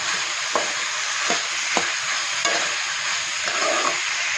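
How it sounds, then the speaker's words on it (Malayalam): Chopped mango stirred into a sizzling pickle mixture of carrot and bitter gourd in a frying pan, steady close frying hiss with several short scraping stirs at regular intervals. "അവസാനമായിട്ട് അരിഞ്ഞ് വെച്ചിരിക്കുന്ന മാങ്ങയും കൂടെ ചേർത്ത് കൊടുക്കാതെ"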